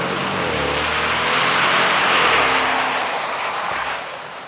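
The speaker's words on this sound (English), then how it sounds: "The best V8 noise this year from the Europeans was the Range Rover P350" A Range Rover P350 V8 engine is heard in rainy conditions, a broad, rushing drive-by roar that swells to a peak midway and then tapers off as it moves away.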